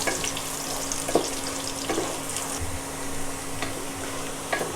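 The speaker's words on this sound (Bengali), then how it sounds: "পেঁয়াজ আমি লাল করব না, হালকা করে ভেজে নিব" Onions frying lightly in a pan for a banana flower dish give a steady, soft sizzle with a faint hum, broken by a few small stirring clicks.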